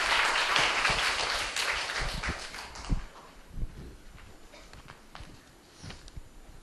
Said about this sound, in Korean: 팔조에게 다시 한번 박수 부탁드리겠습니다.